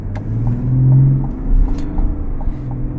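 Steady low engine rumble and road noise inside a 2025 GMC 1500 Denali Reserve pickup with a 3.0 diesel, heard from the cabin while driving at a constant pace, loud and continuous with no talking.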